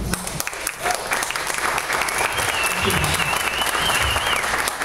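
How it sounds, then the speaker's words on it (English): An audience applauds steadily, welcoming a guest speaker to a business talk on social media and LinkedIn. The clapping is dense and even throughout, with a voice briefly audible within it. "Let's give him another round of applause"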